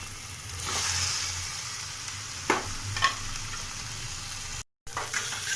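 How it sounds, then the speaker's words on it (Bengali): Masala spices sizzling in hot oil in a pan, ready for boiled potatoes to be added, a steady close frying hiss with a couple of brief stirring clatters and a short break near the end. "আমার মশলাটি ভালোভাবে ফ্রাই হয়ে গিয়েছে। মশলাটির থেকে তেল ছাড়তে শুরু করে দিয়েছে।"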